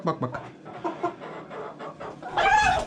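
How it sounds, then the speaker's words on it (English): A rooster clucks and squawks in short bursts, rising to a louder, harsher cackle at the end, close by. "I can start with one of these big roosters first"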